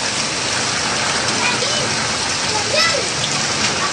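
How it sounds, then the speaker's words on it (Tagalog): Steady rain patters densely on surfaces, a constant hiss with scattered drops, close and fairly loud, with no one speaking. "At syempre hanggang ngayon umuulan pa rin."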